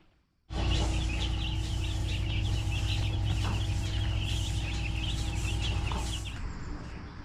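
A flock of meat chickens on a farm clucking and chirping together in a busy, continuous chorus, with a low steady hum of machinery underneath.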